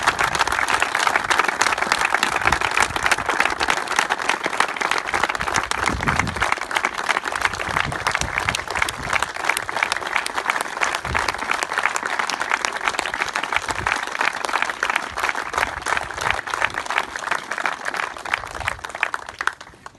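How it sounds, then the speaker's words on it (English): An audience at a Mayo football celebration gives a sustained round of applause, dense clapping running steadily for the whole stretch with no talk over it. "just for a moment maybe give a round of applause to David."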